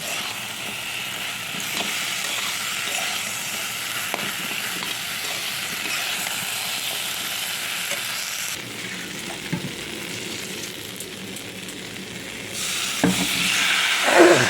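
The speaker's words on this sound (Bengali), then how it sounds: "ভেজে রাখা লঙ্কা জিরে আর আদাটা দিয়ে ভালো করে কষিয়ে নেব" Chilli, cumin and ginger masala sautéing in a pan, a steady moderate sizzle with occasional scraping stirs and a brief louder clatter near the end.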